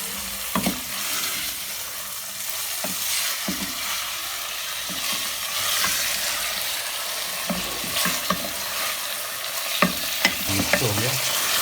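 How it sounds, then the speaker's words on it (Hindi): Minced beef keema frying in a pan for keema masala, a continuous sizzle broken by repeated scraping and stirring knocks from a utensil, moderately loud throughout with no speech. "इसको फ्राई करेंगे।"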